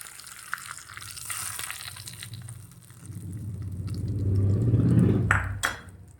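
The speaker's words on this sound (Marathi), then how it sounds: "आता गॅस बंद करून आपण या चटणीमध्ये तडका देऊया" Hot tempering is poured into sesame chutney after the gas is switched off. A quiet start builds into a loud, close sizzling rush that peaks briefly and then fades, with a sharp clink near the end.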